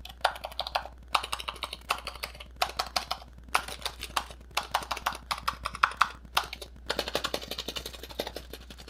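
Fast, steady typing on a Razer tenkeyless computer keyboard, close and clear, a dense run of crisp key clicks broken by a few brief pauses, with no voices.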